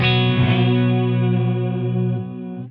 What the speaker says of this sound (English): Other controls include decay, which controls how long the tail of the reverb is.